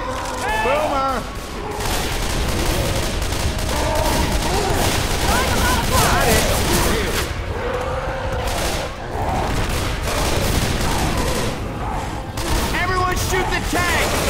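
Dense, continuous gunfire in Left 4 Dead 2 during a zombie fight in the Dead Center campaign, loud bursts layered with booms and chaotic game noise, with excited voices shouting over it throughout.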